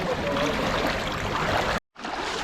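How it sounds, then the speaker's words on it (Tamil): Floodwater from heavy rain in Thoothukudi rushes loudly and steadily, a dense roaring flow close by, cut off by a brief silence before the torrent resumes. "தண்ணி எப்படி ஓடுதுன்னு பாருங்கள் சரியான போர்ஸில் ஓடிக்கிட்டு இருக்கு"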